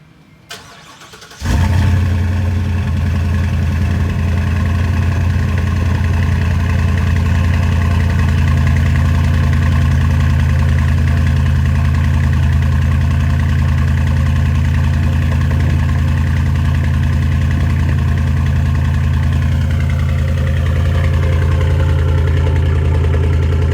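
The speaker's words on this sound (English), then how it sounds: "I'm gonna stand right here and try to do the cold start for you." A 2023 Ford F250 with the 7.3 Godzilla V8 and Ford Performance exhaust cold-starts after a brief crank, then settles into a loud, deep, steady idle that rumbles on without a break, close by and with no talk.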